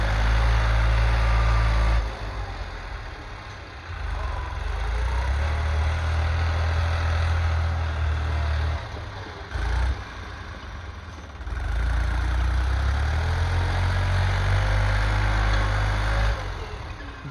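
A New Holland 3630 Super tractor with a 55 HP engine runs with an 11-tine tiller attached, a deep, steady diesel rumble that holds loud and close, dipping and rising briefly in load a few times.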